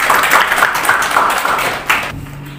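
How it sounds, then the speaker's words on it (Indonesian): Classmates in a school lesson clap for a student who answered correctly, a close, lively patter of hands that fades and then breaks off abruptly, leaving a hushed room. "Tepuk tangan untuk Randy"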